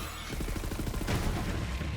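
Rapid gunfire from a Borderlands 3 weapon, a fast rhythmic burst of shots followed by a heavier blast, fairly loud with no talking.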